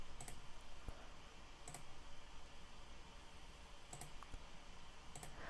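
A computer mouse clicked four times at a slow, uneven pace, each click faint and crisp over a steady low hiss.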